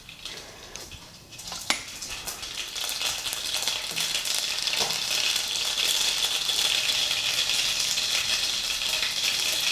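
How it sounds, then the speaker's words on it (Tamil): Mustard seeds dropped into hot coconut oil for a Nellai-style fish kuzhambu, a sharp clatter as they hit, then a steady, dense crackling sizzle that builds and holds close and loud. "இப்போ எண்ணெய் சூடாகிடுச்சு கடுகு போடலாம்"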